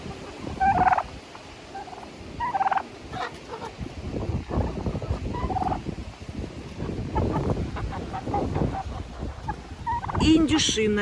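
A turkey gobbles in a chicken coop in several loud, rippling bursts spread across the stretch, with scattered clucks and rustling between calls and a brief bark-like sound near the end.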